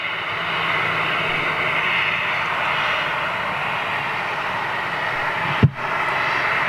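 An Austrian Airlines Airbus A320 jet in new livery, heard as a steady, distant engine rumble and hiss, with a brief sharp bump near the end.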